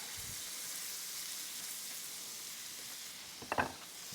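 Butter sizzles in a hot pan while a brisket cheesesteak is being cooked, a soft, steady hiss in the background with a short burst of louder clatter near the end and no one talking.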